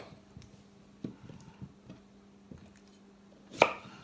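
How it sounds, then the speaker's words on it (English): A knife cuts cucumber on a board in a handful of separate soft chops spaced irregularly, close and fairly quiet, followed by one sharper, louder cut near the end. "So this is how you cut your cucumber."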